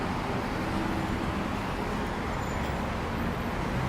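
Steady, broadband roadway rumble as cars, including a Lotus Evora S, drive away from a gathering, a continuous wash of traffic noise with no distinct individual pass.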